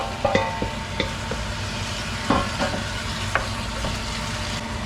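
Food being sautéed and stirred in a pan at home, with sharp scrapes and clinks of a utensil over a steady low sizzle and a background hum.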